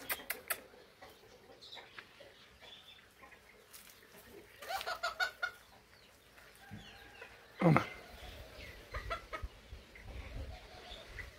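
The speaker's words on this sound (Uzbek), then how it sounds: "Mana o'sha bintamkalar." Bantam chickens cluck in scattered, uneven bursts around a poultry yard, with a few louder squawks midway and a brief voice in the background.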